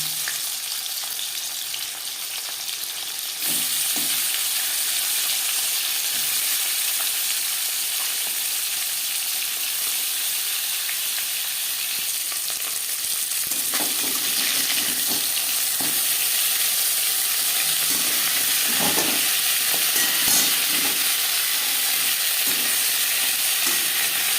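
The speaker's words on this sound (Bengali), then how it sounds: "তেল গরম হয়ে যাওয়ার পর দিয়ে দেবো মাছের মাথা" Aar fish head frying in hot refined oil, a loud, continuous hissing sizzle that jumps up when the fish goes in and keeps crackling with scattered pops.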